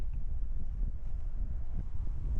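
Wind buffeting a microphone on a chilly solo hike outdoors: a steady low rumble and rustle with no pauses, moderately loud and alone, no voices.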